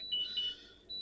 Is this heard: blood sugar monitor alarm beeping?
yes